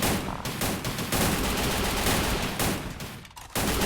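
Nonstop gunfire in the battle-royale game Free Fire: dense, loud volleys of shots rattle almost continuously, broken only by a couple of very brief gaps.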